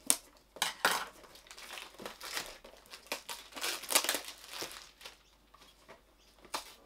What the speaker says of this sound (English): I've grabbed some scissors just to help speed this process up for me.